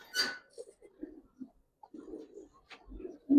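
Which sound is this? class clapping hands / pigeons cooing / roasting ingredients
pigeons cooing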